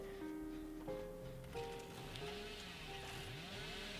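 Chainsaw revving in the mobile horror game Dead by Daylight Mobile, a steady buzzing whine with shifting pitch sweeps, heard alone with no talk.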